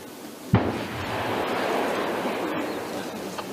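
A sharp, heavy thump marks the controlled detonation of WWII explosive ordnance buried under sand on a beach, followed by a long, roaring rush of debris and sand settling.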